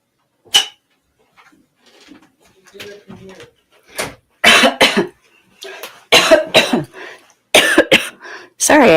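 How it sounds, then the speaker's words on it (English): A person coughs several times in short bursts, with some throat clearing and quieter movement sounds between, fairly close and loud, no talk over it. "Sorry, I come back coughing."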